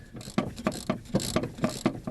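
Socket wrench ratcheting off a 7/16 wiper nut on a 1976-89 Mopar M/J/F-body car, a close, regular series of clicking pulls, about eight strokes in quick rhythm.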